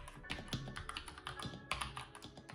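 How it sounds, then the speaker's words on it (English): A NuPhy Halo 96 mechanical keyboard fitted with its damper kit, typed on steadily with soft, muted, evenly paced keystrokes heard alone and close up. "Since the keyboard comes with a damper kit by default, the sound is very comforting while you type"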